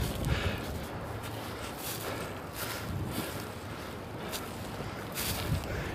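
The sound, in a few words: strong wind by a river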